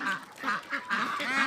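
Khaki Campbell and White Pekin ducks kept on a farm in Barpeta, Assam, quack in a quick run of about five nasal calls, close and fairly clear with no talk.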